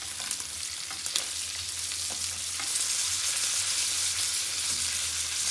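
Spiced pomfret fish fries in hot oil while being gently pressed down, producing a loud continuous hiss with a few sharp spits and pops and no voices.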